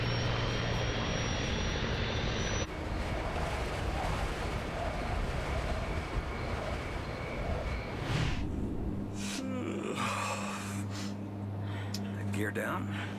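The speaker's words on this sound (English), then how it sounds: "Clarence Center is on the approach path for aircraft landing at Buffalo's airport." A passenger aircraft on its landing approach to Buffalo's airport drones in a steady engine hum and roar that shifts in tone partway through, with voices talking over it.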